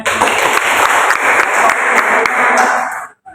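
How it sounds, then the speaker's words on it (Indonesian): Audience applause in a classroom or lecture hall, dense sustained clapping with sharp individual claps standing out, fairly loud and steady, then stopping abruptly near the end. "Terima kasih tepuk tangan."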